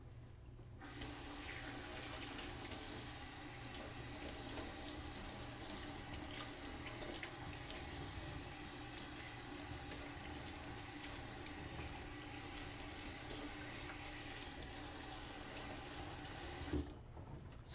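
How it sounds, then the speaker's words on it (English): Tap water runs steadily over a human hair wig being rinsed in a sink, a continuous close splashing hiss that stops abruptly at the end, with no talking. "By rinsing the inside of the wig like this, you can loosen up the knots."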